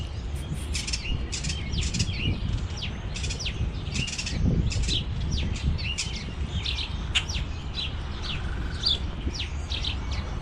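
Backyard birds chirp steadily at a freight feeder set away from a house, many small high tweets overlapping throughout over a low outdoor rumble, fairly close and continuous.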